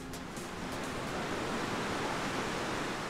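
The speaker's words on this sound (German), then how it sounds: "Die Brandung rollt gleichmäßig heran, die Wellen sind nicht hoch." Gentle, even surf rolls steadily onto a beach in Bali, the low waves producing a continuous broadband wash with no distinct breaks, steady and fairly close, with no voices.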